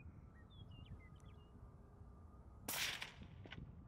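A single distant rifle shot from a Savage Impulse Predator in 6.5 Creedmoor, fired at a rockchuck outdoors, cracks once sharply near the end over steady wind noise and faint birdsong.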